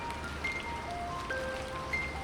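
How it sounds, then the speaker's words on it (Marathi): First monsoon rain falls in Lonavala as a soft, even hiss of drops, with faint thin whistling tones scattered above it and no one speaking. "पहिला पाऊस आम्ही भिजतोय."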